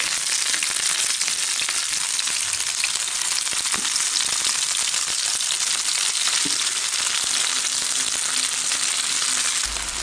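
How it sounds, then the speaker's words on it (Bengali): Lentil fritters frying in hot, splattering oil, a loud, dense, unbroken sizzle close up with faint crackles throughout. "বড়াগুলো দিয়ে দিচ্ছি। দেখছেন তেল কিভাবে ছিটতেছে"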